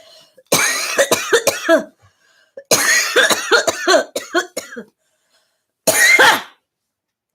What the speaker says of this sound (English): that was a really good cough for that answer